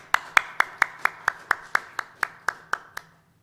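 A church congregation at a Sunday morning service claps about a dozen times in even, unison beats, each clap sharp and ringing slightly in the room, then stops.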